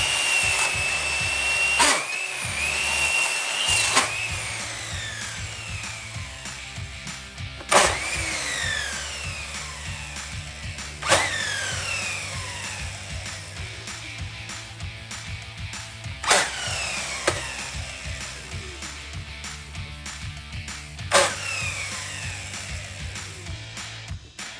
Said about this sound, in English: suddenly my miter saw made this horrible sound